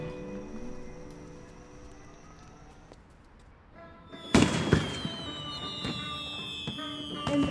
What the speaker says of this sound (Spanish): Entre coloridos fuegos artificiales celebramos la llegada del Año Nuevo.